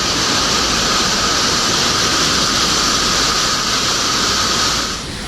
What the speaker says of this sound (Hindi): डरा रहा पानी का शोर